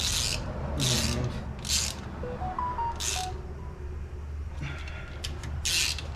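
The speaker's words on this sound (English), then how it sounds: "I will show me like tightening down probably the last 2 or 3 bolts" Ratchet clicking in short repeated bursts while bolts are tightened on the 8.8 rear differential of a 1995 Ford F150, close and fairly steady, with no talking.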